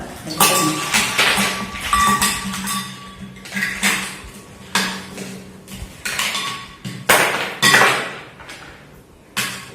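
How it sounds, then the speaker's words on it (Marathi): Ice cubes clatter and clink into a metal vessel in a series of irregular bursts, close and fairly loud. "भांड घेतलं आणि मी त्याच्यामध्ये हा बर्फ टाकलेले आहेत"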